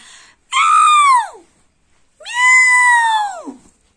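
Two loud, drawn-out meows, each sliding down in pitch, separated by a short silent pause.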